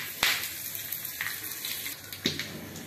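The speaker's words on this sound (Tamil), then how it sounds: "கருவேப்பிலை போடுறேன்." Curry leaves sizzle as they drop into hot oil with cumin and a dried red chili, tempering for a lemon leaf rasam; a steady close crackle with a few sharper pops and no talking.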